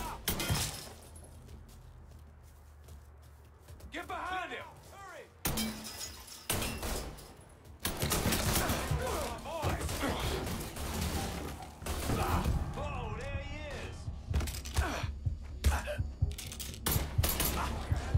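Gunfire in the Mafia III mission Protection Racket, with bursts of shots, shattering and impacts, while voices shout over the fighting.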